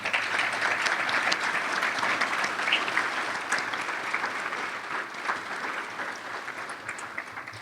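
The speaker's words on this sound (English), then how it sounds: "ladies and gentlemen, a round of applause" An audience at a conference panel session applauds steadily in a dense patter of many hands that slowly fades toward the end.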